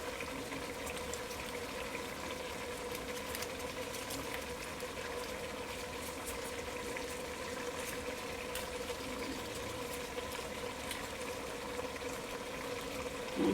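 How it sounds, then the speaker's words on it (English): Water running into a cooking pot with chicken bouillon for split pea soup, a soft continuous trickle and churn lasting throughout, faint and fairly distant with no talking. "I'm going to add some water to it"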